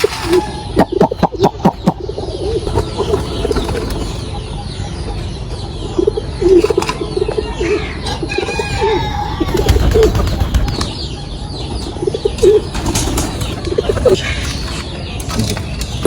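Pigeons perched on a minaret coo in low repeated calls amid a bustle of wing flaps and outdoor background noise, with flapping bursts early on and scattered coos throughout.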